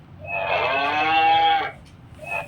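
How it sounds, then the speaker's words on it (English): Cattle give one long, drawn-out moo, near and loud, fading into a brief quieter sound at the end. "cattle"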